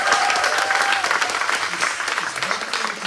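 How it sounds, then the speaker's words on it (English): An event audience breaks into dense, loud, sustained applause, a full wash of many clapping hands with a few cheering voices mixed in. "Can we give her a round of applause?"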